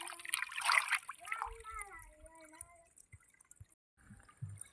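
Catla fish being rinsed in water give a burst of close splashing and sloshing at the start, then fainter trickles as a person talks over the washing.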